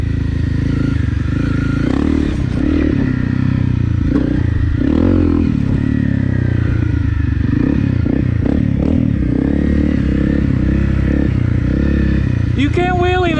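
Honda CRF 250 Rally motorcycle ridden off-road, its engine loud and close with rough revving, rattling and wind noise throughout, and a rider's voice speaking over it.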